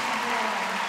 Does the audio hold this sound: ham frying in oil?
no